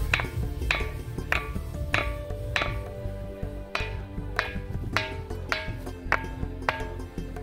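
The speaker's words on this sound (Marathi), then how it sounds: "हा धातूसारखा वाजणारा दगड आहे" A metallic-ringing stone at Khanderi sea fort is struck repeatedly with a stone, producing a steady series of about a dozen clear, bell-like pings that ring on briefly, close and fairly loud.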